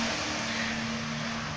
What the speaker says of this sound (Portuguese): Ignore barulho de carro, tá?